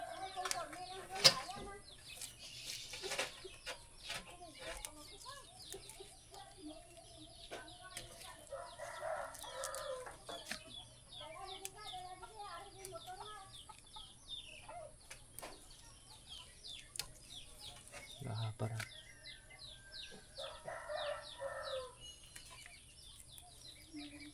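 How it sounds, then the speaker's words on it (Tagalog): Chickens cluck and flap about on a Filipino homestead, a rooster crowing now and then at moderate distance, with faint scattered sounds and some quiet talk in the background. "yung mga chicken ko pala doon, hindi ko pa napakain"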